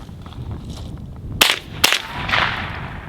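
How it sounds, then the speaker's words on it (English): Suppressed Ruger 10/22 rifle fired into a dirt berm outdoors: two sharp, fairly quiet cracks about half a second apart, then a softer, drawn-out ricochet whine trailing off. "With a little ricochet noise."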